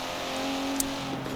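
A Nissan 370Z engine revs in Forza, a steady, moderately loud engine drone with a brief sharp click near the middle, no talking.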